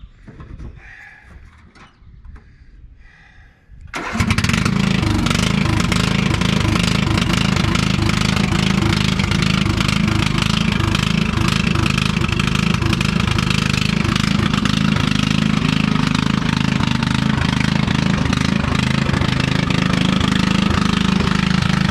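Snowplow engine starts up after a few quiet seconds and then runs loud and steady at close range, a dense continuous rumble with a rattling, knocking edge during a plow test.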